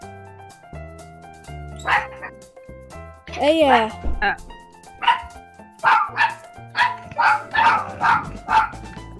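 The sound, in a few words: dog barking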